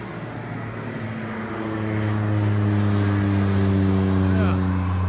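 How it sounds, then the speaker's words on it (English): A propeller airplane drones overhead above a pasture and hayfield, its steady engine hum swelling louder as it passes close, with someone speaking over it. "I hear a plane. It's gonna fly right over me."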